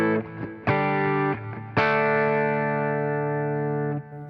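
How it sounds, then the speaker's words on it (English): Electric guitar on a clean pedalboard preset, a few ringing chords struck and left to sustain with a slight edge, bright and steady, no voices. "Now let's go back to clean 1 so you can hear it by itself."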